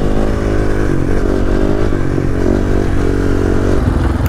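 A motorcycle engine runs steadily and loudly close by as the bike runs out of fuel, a continuous droning rumble with slight wavering in pitch and no talk.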